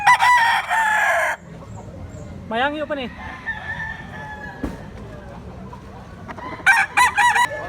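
A rooster crows loudly in one long call near the start, then fainter clucks and bird sounds follow, with someone briefly speaking in the background.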